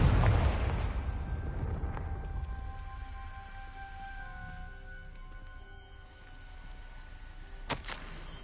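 A Confringo blast spell fired in the Hogwarts Legacy video game, heard as a loud burst at the start that rings out over a sustained musical drone, with a second sharp crack near the end.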